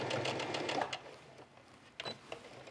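A sewing machine stitches vintage linen with a crocheted edge in a quick, close, rattling run that stops after about a second, then starts again in a short burst near the end.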